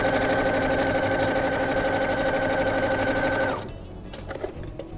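A sewing machine stitching a small zipper pouch runs in a steady, fast mechanical whir with a pronounced hum, close and loud, then stops abruptly, leaving faint handling clicks.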